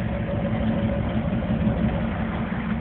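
A truck engine idles steadily and close, a dense continuous low rumble with a faint constant whine, holding an even level throughout with no revving and no talk over it.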